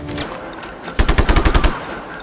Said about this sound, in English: can you stop shooting me, please?